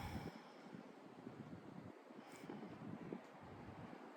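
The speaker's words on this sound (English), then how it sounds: "Feeling into this beautiful wind that's come." Wind blowing outdoors in steady low rumbling gusts against the microphone, continuous and moderately loud throughout, with no talk.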